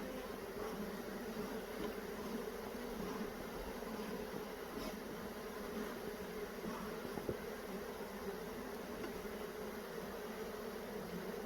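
Honeybees hum in a steady, even drone around an open hive during an inspection with a smoker going, a continuous close buzz with no talk over it.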